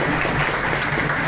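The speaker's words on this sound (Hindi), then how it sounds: "बस जोरदार तालियां" Enthusiastic applause from the audience at a chemists' association gathering, a steady, dense patter of many hands clapping at close range throughout the short stretch.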